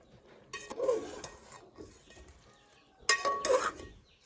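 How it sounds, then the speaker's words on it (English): Naga-style ghalo with boiled rice is stirred in a pot, giving two bursts of close scraping and clinking of a spoon against metal, separated by a quieter pause. "so I'll just mix it and stir it."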